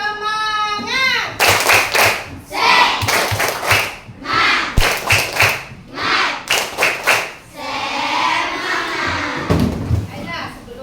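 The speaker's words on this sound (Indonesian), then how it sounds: "Nah, tepuk semangat." A fifth-grade class at an Indonesian state elementary school does a rhythmic spirit clap, with bursts of children's clapping in patterned groups, close and loud, mixed with children's chanting voices.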